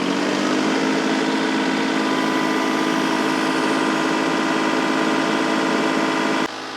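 A Kubota tractor engine holds a steady 2,000 RPM while its loader lifts, a loud, even mechanical drone with a constant pitch, close up and uninterrupted until a slight drop at the very end.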